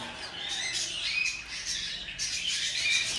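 A yellow chick cheeping in repeated shrill, high chirps, close and steady over a soft background hiss, with no talking.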